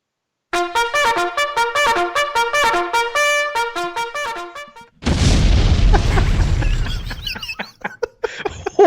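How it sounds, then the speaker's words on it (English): A sudden explosion sound effect cuts in after a run of staccato musical notes, a loud booming blast that rumbles and slowly fades over several seconds. "Oh, 3 weeks in a row of an explosion."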